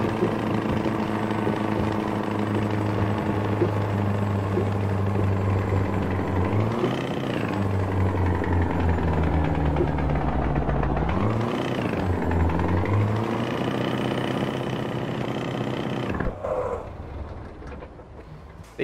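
A heavy truck engine in American Truck Simulator drones loudly and steadily, its pitch dipping and rising twice as gears are shifted down on a climb, then cutting off abruptly near the end.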